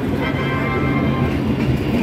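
A train made up of LHB coaches runs along, giving a steady, close, continuous rumble and rattle throughout, with no voices.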